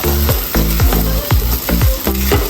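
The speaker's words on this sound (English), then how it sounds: "let it stir fry up a little bit" Shrimp and chicken fried rice stir-frying in a hot pan, with a steady loud sizzle broken by repeated scraping strokes of the spatula roughly every half second, close and with no voices.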